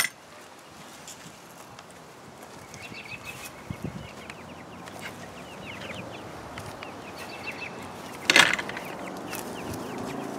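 Chickens cluck softly in a fenced chicken run converted from a shed, scattered clucks over a low background, with a louder squawk near the end.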